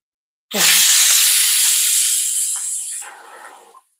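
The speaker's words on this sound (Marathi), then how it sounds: "तर कुकर आता 5 शिट्ट्या दिलेल्या आहे" A loud, sudden burst of hissing steam from a pressure cooker cooking potatoes, sustained for about three seconds before tapering off and stopping abruptly.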